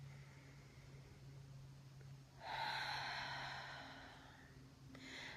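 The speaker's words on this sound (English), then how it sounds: "And take a third deep breath." A single slow, deep breath drawn in and let out during a guided pause exercise, a soft, airy rush that swells and fades in an otherwise quiet room.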